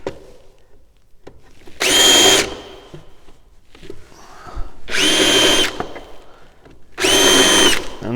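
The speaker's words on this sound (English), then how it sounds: "Just switch to the same drill that I used" Power drill boring holes into a wooden drawer front: three separate high-pitched whirring bursts, each a second or so long, with quiet handling noises between them.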